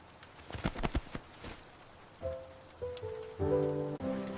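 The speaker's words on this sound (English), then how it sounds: "But the rain is cold and gray." Rain falls outdoors on a dark day, its pattering and dripping clear at first before steady sustained musical tones rise and carry the rest of the moment.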